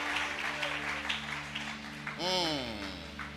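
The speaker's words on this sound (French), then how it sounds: "Clap offering to the Lord." A church congregation claps as an offering to the Lord, a sustained wash of applause beneath a loud sung or shouted voice.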